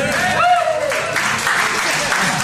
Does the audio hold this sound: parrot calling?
no